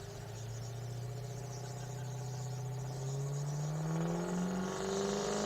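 A Chevy pulling truck's engine revs and climbs steadily in pitch at a tractor pull, loud and sustained with a rising drone, with no voices.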